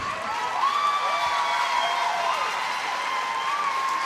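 A large indoor crowd at the 2023 Phillips 66 National Championships swimming meet in Indiana applauds and cheers steadily, a dense, continuous wash of clapping with whistles rising through it, with no voices in front.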